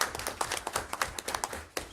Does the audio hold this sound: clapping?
yes